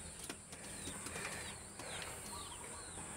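A racing pigeon arrives with several quick bursts of wing flapping, light and fairly close, over a faint steady background hiss.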